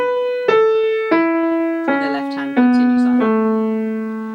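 On piano, a right-hand phrase from a song is played legato: six connected notes stepping downward, each ringing into the next, close and clear without any talking.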